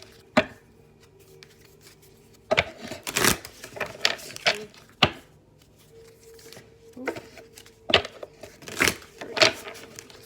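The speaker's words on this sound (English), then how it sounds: "Let me get one more shuffle." Tarot cards are shuffled by hand in quick irregular bursts of riffling and slapping, separated by quiet pauses, close up with no talking.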